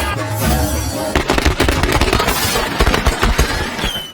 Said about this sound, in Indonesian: menyebabkan semua petasan meledak